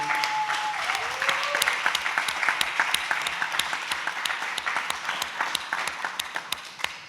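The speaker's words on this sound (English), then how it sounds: "give a round of applause for these gentlemen for being vulnerable" Steady applause from an audience, many hands clapping at a brisk rhythm for several seconds, fairly close and loud, with a brief voice fading at the start.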